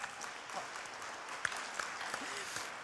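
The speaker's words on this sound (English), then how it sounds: "I think we deserve a round of applause." Conference audience applauds with a steady, moderate-sized patter of many hands clapping at once, sustained evenly and heard from within the room.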